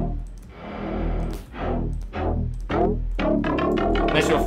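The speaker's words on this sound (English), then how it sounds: "Nice little flanger there." Synthesized notes play through a free VST flanger plugin, each one sweeping with a swirling, jet-like whoosh in a short sequence.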